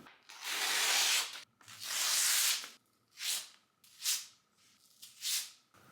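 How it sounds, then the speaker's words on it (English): A notebook page ripped out by hand: two long, loud tearing rips followed by three shorter tearing bursts, close and clear with no talking. "now I'm gonna rip out the page. We're gonna tear this baby up"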